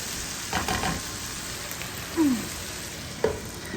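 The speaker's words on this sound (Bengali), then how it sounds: "প্রথমেই কড়াইয়ে চলে গেলো পেঁয়াজ পেঁয়াজ ভাজা ভাজা হয়ে যেতে" Continuous sizzle of onions frying in a kadai, with a few brief scrapes and clinks as they are stirred.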